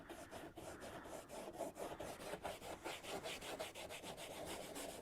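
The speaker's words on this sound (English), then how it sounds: "Sounds like sandpaper." Rough, rhythmic rubbing strokes on car trim, a scratchy sandpaper-like rasp repeating in quick back-and-forth passes, close but fairly quiet, with no voices.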